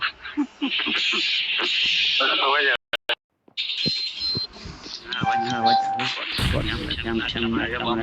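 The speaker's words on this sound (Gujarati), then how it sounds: "બોમ્બ લાગ્યા" Bomb blasts in a mobile battle-royale shooter ring out as loud, heavy booms amid game effects and synthetic tones, with a brief silent gap midway and talking over the action.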